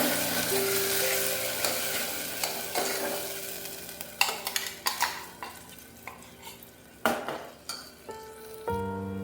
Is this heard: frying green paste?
yes